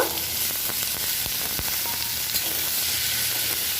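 Capsicum, tomato and other vegetables fry in a pan for semolina pulao, giving a steady, close, even sizzle with a few soft stirring clicks and no talking.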